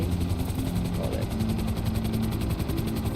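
A steady helicopter rotor drone from the video game Grand Theft Auto V, with rapid thudding blade chop, constant and fairly loud throughout.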